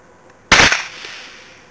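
A single sharp rifle shot from a new Savage Trapper, fired at a target at about 15 yards, cracks out loud and close after a brief quiet, then fades into a short ringing tail with no talk.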